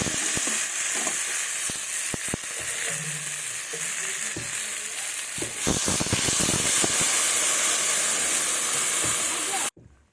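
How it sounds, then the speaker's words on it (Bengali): Water is poured into a hot pan of sizzling rohu fish curry with eggplant and tomato. Steady frying hiss runs throughout, with clinks and stirring knocks, a surge of louder sizzle midway, then an abrupt cut near the end. "এবার আমি জল দেব।"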